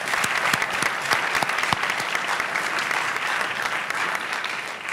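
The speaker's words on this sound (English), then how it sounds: "Let us give them a round of applause." Steady audience applause fills a hall after the judges are thanked at an awards event, a dense continuous wash of many hands clapping throughout.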